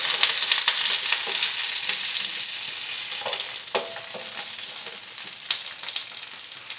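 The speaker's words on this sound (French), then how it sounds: "première chose, on fait revenir les poivrons" Bell peppers frying in oil for paella, a loud, continuous sizzle that stays dense throughout, with occasional stirring scrapes and crackles on top.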